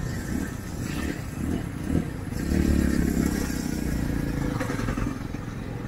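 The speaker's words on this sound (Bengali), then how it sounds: "চালাতে চালাতে গাড়ির সাউন্ডটা একটু আপনাদেরকে শোনাচ্ছি" A Jawa 350 motorcycle engine hums steadily while being ridden at full speed, with low rumble, road noise and wind, swelling slightly louder midway through.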